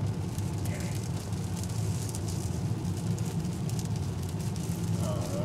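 Steady rain patters on a moving car while driving, blended with road and engine rumble, continuous throughout the clip.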